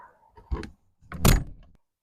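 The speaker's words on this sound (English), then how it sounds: "Let me close the door and you'll see the difference." Door of a Scamp travel trailer being pulled shut at an off-grid campsite, a softer thump followed by a louder latching slam, close and alone with no talk.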